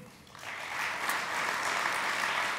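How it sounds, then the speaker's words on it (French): Audience applause for a publisher at the Prix Handi-Livres 2018 award ceremony, a steady dense wash of clapping that swells after a quieter opening and keeps going without a break. "On peut l'applaudir"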